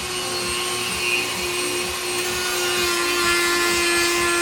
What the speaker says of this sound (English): I just cut it right off with the Dremel. And now I got to sand it to make it a little cleaner.